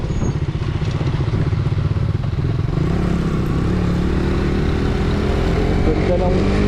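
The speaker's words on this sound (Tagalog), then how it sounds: "Ganda ng motor ni Kuya oh, sniper, parehas na kay Bumblebird." A yellow Yamaha Sniper motorcycle engine idles and revs nearby, a steady rumbling drone with slight rising pitch changes, while people talk over it.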